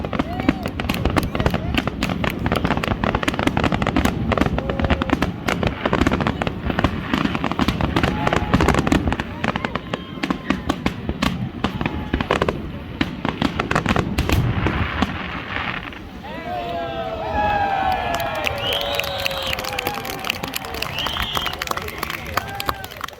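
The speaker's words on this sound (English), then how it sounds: "it all culminates on the 1st of July with a magnificent fireworks display" Rapid bursts of fireworks crackle and boom continuously at a July 1 Canada Day display in Sylvan Lake, Alberta, loud and dense, with a crowd murmuring and voices audible underneath.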